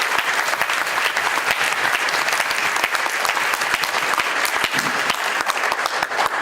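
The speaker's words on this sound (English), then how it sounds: "let's hear another round of applause for everyone" Sustained applause fills a luncheon hall as an awards audience claps steadily and loudly, a dense even wash of hand claps with no talk over it.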